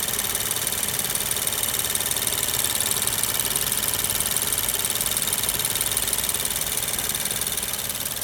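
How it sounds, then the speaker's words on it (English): A 2019 Suzuki Swift Boosterjet 1.0-litre turbo petrol hybrid engine idles steadily and evenly with a faint mechanical rattle, close by and without any talking. "you can see the noise of the engine, how it looks and how it sounds."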